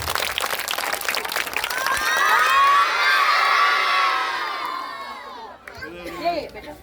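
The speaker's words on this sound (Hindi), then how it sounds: "एक बार सभी लोग ताली बजा" A school audience at a Teacher's Day program claps and cheers loudly, with children shouting in a swelling crowd roar that peaks midway, then fades. Brief voices follow near the end.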